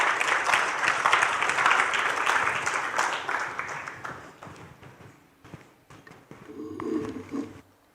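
An audience at a Nairobi development cooperation conference applauds a Friedrich Naumann Foundation speaker, with dense clapping for several seconds that thins and fades toward the end.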